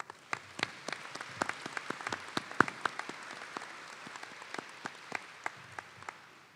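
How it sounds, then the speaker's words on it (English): Audience at an InterFaith Leadership Award dinner claps for sponsors and donors, a thin scattering of distinct claps ringing out fairly evenly across the room at moderate volume, with no voices over it. "Please join me in a round of applause to thank all of them."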